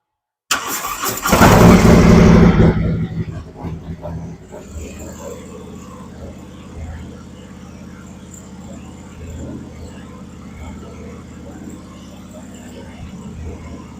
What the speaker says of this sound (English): I'm going to fire the bike back up and watch the AFRs again and see what happens.